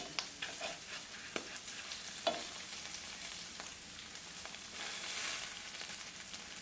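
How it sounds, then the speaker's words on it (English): Eggs frying in a pan just after being flipped, for a bacon, egg and cheese bagel: a continuous close sizzle with scattered crackles and occasional scraping taps. "Alright, I'm going to give these eggs a flip."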